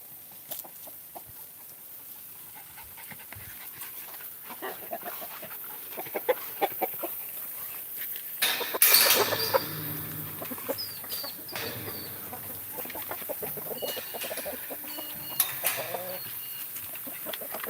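Chickens cluck and squawk close by as they are fed, with a sudden louder flurry partway through, amid steady outdoor background noise.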